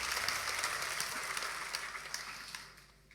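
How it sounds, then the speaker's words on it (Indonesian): A church congregation gives hesitant applause during a sermon, a soft, scattered patter of clapping that stays fairly steady before thinning and fading toward the end. "Anda boleh tepuk tangan, Anda tepuk tangan ragu-ragu."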